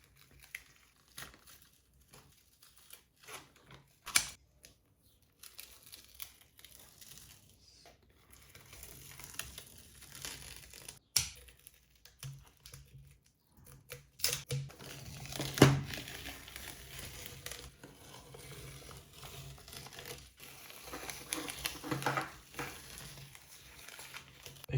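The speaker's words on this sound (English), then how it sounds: "Now I will remove the masking tapes and see the results." Masking tape is peeled off the bed of a Voron v2.4 3D printer, giving soft intermittent crinkling and tearing with scattered crackles and small knocks, close and quiet.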